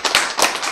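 An audience at a Korean health lecture gives one brief round of clapping, a few sharp, loud, close claps in about half a second.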